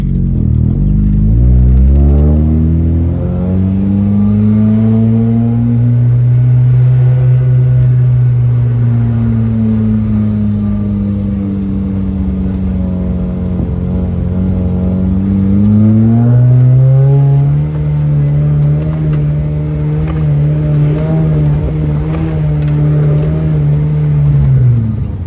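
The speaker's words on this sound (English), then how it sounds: "So let's go ahead and take it for a drive real quick." Car engine heard from inside while driving a slalom after a coilover suspension install, a loud, continuous engine note that rises, holds, dips and climbs again through gear changes over about twenty-five seconds.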